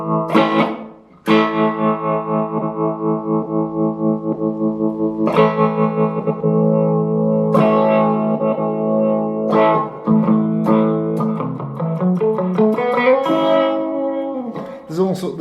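An electric guitar plays through a Blackstar HT Club 40 amp, with sustained chords and single notes cycling through variations of a basic patch, ringing with effects such as delay and reverb.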